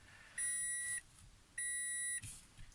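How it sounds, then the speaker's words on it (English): Two electronic beeps from a Toyota Aqua (Prius C) head unit, each a steady high tone lasting about half a second, separated by a short pause, fairly clear over quiet background. "Sorry about all the beeping that goes on in these cars."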